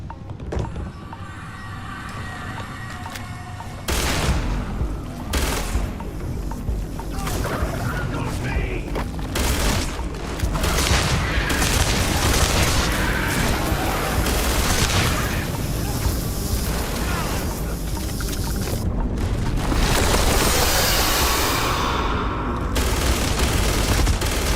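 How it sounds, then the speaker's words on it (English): Repeated bursts of gunfire in the space game Starfield, loud and dense over a busy layer of combat noise and mechanical clatter, with a voice briefly heard among the shots. "Burst fire! Burst fire!"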